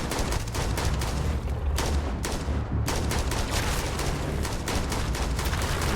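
Dense, continuous burst of rapid gunfire from a high-capacity gun in the sci-fi game Starfield, loud and close, with shots overlapping into a steady roar for several seconds and no talk.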